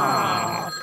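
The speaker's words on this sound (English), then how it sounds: "Phone." A telephone rings with a single short, bright electronic trill that fades out within a second.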